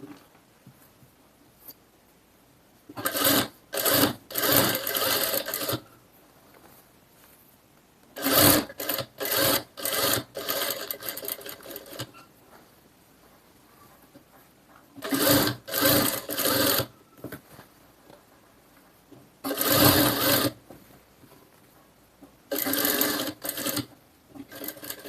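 A sewing machine stitching and backstitching a blouse: repeated bursts of fast whirring stitches a second or two long, separated by quiet pauses, close and clear, with no talk.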